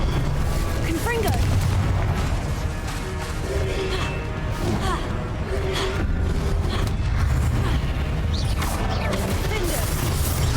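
Repeated Confringo blasting spell explosions in the Hogwarts Legacy video game, dense booming crashes and impacts layered over busy game music and effects throughout, with a person talking over the action.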